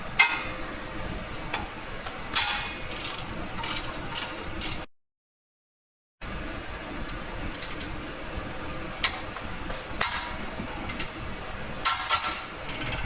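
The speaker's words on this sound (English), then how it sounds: "I'm going to take a 14mm socket and remove the caliper bracket." A ratchet on a 14mm socket loosens the rear brake caliper bracket on a Subaru Legacy, giving bursts of quick clicking strokes with a short silent gap midway, fairly quiet and with no talking.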